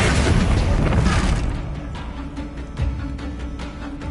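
Spells cast in a Harry Potter video game burst out as a dense, loud run of magical blasts and booms, heaviest at the start and then thinning into a series of sharper impacts.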